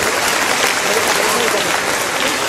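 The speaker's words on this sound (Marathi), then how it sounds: "त्याबद्दल आपण सर्वांनी एकदा टाळ्या वाजवाव्यात ही आपल्याला विनंती करतो." Steady applause from an audience at a Pune event where educational kits are distributed to students, dense clapping sustained throughout at an even loudness.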